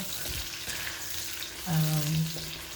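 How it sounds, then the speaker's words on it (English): Onion frying in a pot for vegetable lo mein, stirred with a wooden spoon: a continuous moderate sizzle with a brief low scraping clunk of the spoon against the pot partway through. "So I'm stirring my pot."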